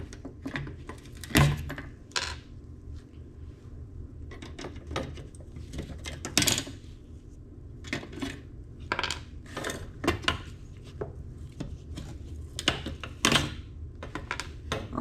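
Copper-containing components being peeled off a circuit board: irregular sharp clicks, snaps and scraping ticks, close and bright, scattered in uneven bursts with short quiet gaps between.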